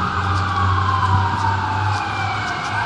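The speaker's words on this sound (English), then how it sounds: "there's sirens going off around there" A wailing siren rises and falls over steady traffic rumble, continuous and moderately loud, sounding a short distance away.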